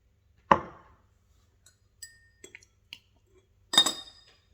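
Glass clinks from a laboratory flask being swirled during an acid titration for making salts, with a sharp clink, several faint small taps, then a louder rattling clink near the end, in a quiet room.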